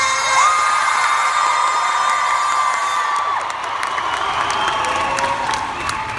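A large crowd at a London X Factor event cheers, whoops and yells together, loud and sustained with high-pitched screams cutting through, fading slightly toward the end.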